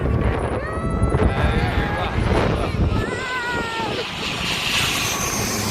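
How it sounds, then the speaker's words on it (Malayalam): Small airplane landing at Madurai airport, its engine a broad, fairly distant roar under steady nearby talking. "ചെറിയ ഫ്ലൈറ്റാണ് വരുന്നത് കണ്ടോളി."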